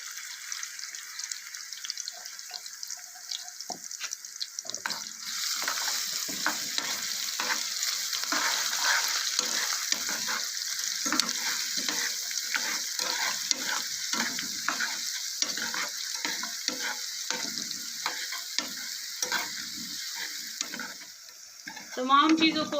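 Crushed garlic sizzles in hot oil for a daal tadka, a steady close frying hiss with stirring scrapes throughout, briefly broken by a clatter near the end.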